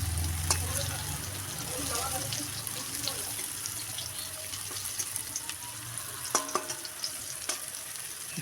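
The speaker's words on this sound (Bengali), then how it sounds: "নেড়ে চেড়ে এবার লালচে করে ভেজে নেব" Frying in a pan with turmeric for a teasel gourd curry: a steady sizzle runs throughout, with scraping stir strokes and clinks growing busier toward the end.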